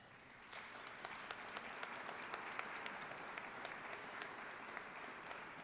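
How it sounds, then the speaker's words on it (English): Audience applause at a Holodomor Memorial Day ceremony in a legislative assembly, a steady, fairly distant wash of many hands clapping with a few sharper claps standing out. "Let's give them a round of applause."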